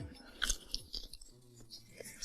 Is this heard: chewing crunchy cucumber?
yes